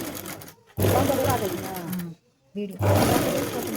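Sewing machine stitching a blouse, running in two steady bursts with a short pause between them, with a voice talking over the motor.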